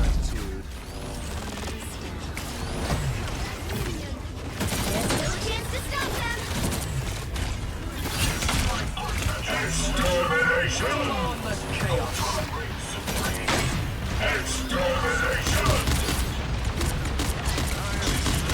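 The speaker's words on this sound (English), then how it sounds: "Bombing the shit out of these guys. Like a World War I over here." Explosions and gunfire from Ultron bombing enemies in a video game, a dense continuous barrage of blasts and crackling shots at steady high loudness, with a person talking over the action.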